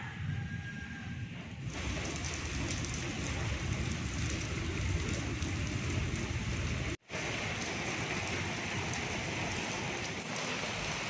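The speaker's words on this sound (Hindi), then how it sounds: "ये देखें बारिश कितनी ज़बरदस्त और तेज़ आ रही है, फुल माहौल में ये बारिश हो रही है।" Heavy torrential rain pours down over a village, a dense steady hiss of drops on surfaces that holds loud and unbroken throughout, with only a split-second cut partway through and no voices.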